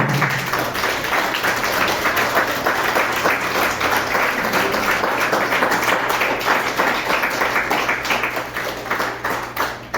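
A church congregation claps together in praise to the Lord, a dense, steady burst of rhythmic palm claps that runs loud and continuous for the full stretch, with no talking over it.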